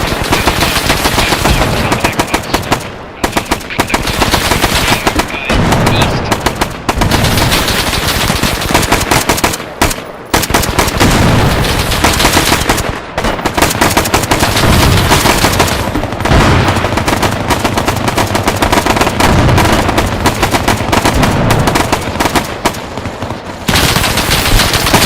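Gunfire from the tactical shooter video game Bellum. Loud automatic bursts and rapid rifle shots come almost without pause and stay dense, with brief gaps, across the whole stretch.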